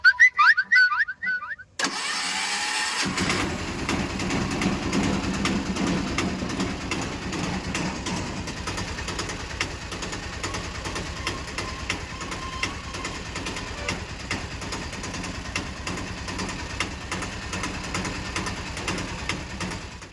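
A freshly fitted engine on a small goods vehicle starts and then runs at a steady idle, its even mechanical chatter holding close and continuous after a brief burst of noise at the start.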